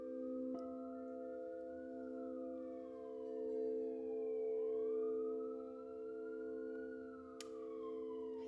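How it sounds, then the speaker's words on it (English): A passing police car siren wails in slow rising and falling sweeps, steady and moderately distant, with no talking. "And a police car."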